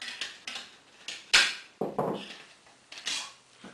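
Metallic clanks and scrapes as a homemade hobo stove made from two stainless steel containers is handled, several sharp close knocks with ringing tails, spaced irregularly and without talk.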